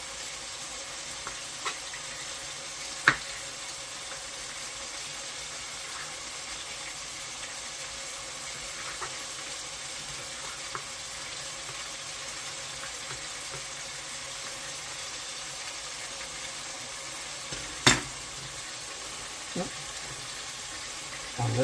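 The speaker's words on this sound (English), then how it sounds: "I'm just stirring my beef now." Beef for a steak and kidney pie sizzles steadily in a pan while being stirred, a soft continuous fry with a few sharp clicks of the utensil against the pan and some faint water-like noise.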